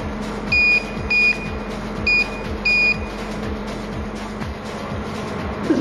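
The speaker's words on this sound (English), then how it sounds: "We have used a buzzer here which indicates that any one of the keys pressed" Four short electronic buzzer beeps sound in pairs over a steady low mechanical hum and rhythmic clicking, from a fastest-finger key-press detection system on an FPGA board.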